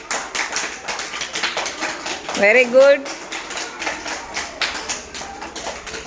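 First-grade schoolchildren clap together for a classmate, Geetika. The claps come as quick, uneven taps under an adult's encouraging voice, with a short louder burst partway through.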